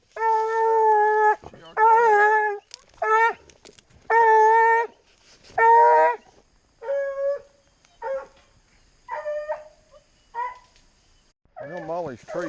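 A coonhound bays at a treed raccoon in Kentucky woods at night. Long, loud, mournful bawls come one after another close by, tapering into shorter chops toward the end, with quiet gaps between them.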